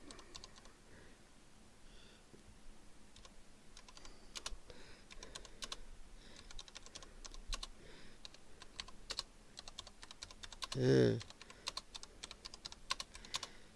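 Fingers tap on a computer keyboard in quick, irregular bursts of light clicks, close and fairly quiet, with one louder thump near the end.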